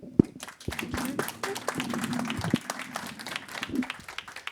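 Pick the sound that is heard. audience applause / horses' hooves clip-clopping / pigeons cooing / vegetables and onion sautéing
audience applause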